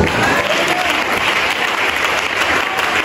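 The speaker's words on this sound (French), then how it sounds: "Est-ce qu'on peut acclamer le Seigneur?" A church congregation applauds to acclaim the Lord during a memorial gathering, steady loud clapping from a large crowd throughout with no pause.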